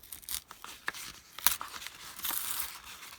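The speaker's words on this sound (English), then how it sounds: "We're going to take and open up our envelope." Paper envelope being carefully opened and torn for a pocket scrapbook layout: soft crinkles and several short tearing rips, close and fairly quiet.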